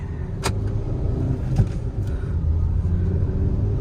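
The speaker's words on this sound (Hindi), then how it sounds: "फर्स्ट गियर हम लगाते हैं और गाड़ी को थोड़ा सा उठा के देखते हैं" A Hyundai Venue SUV pulls away in first gear from inside the cabin, a steady low engine and road rumble with a couple of brief clicks and knocks.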